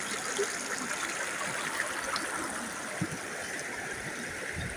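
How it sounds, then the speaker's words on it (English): A mountain stream flows steadily past ice in a valley, its broad, constant rushing and gurgling filling the scene without pause. "Everybody loves to hear the sound of a flowing stream."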